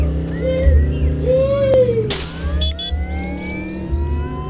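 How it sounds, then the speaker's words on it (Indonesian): A car engine in a video game accelerates, rising and falling revs with a whining pitch sweep, heard fairly loud with game noise and a brief sharp hit in the middle. "Kalian lihat kecepatan mobil ini"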